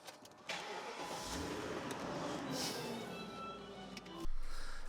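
A BMW E38 car engine idles and runs steadily while the car is reversing. A brief louder burst comes near the end.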